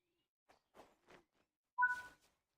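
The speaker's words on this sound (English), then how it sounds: "Hear an owl." An owl calls in the video game Train Sim World 3 on the Nidertalbahn line, a few soft, faint hoots in quiet surroundings followed by a brief louder whistling call.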